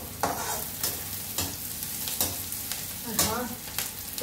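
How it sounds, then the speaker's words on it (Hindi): Onions frying in a pan for bhindi (okra) fry, a quiet steady sizzle broken by rhythmic scraping stirs roughly every half second. "तब तक मेरा ये भुन रहा है प्याज"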